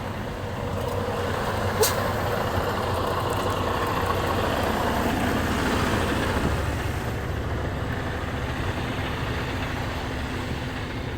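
A parked truck's engine idles with a steady low rumble throughout, joined by a brief sharp hiss early on, and no one speaks.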